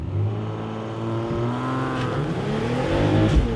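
BMW XM plug-in hybrid SUV, a 2.6-ton vehicle, launching under launch control with the engine note climbing steadily through rising harmonics, loud and close from inside the cabin, with a brief shift-like dip partway through.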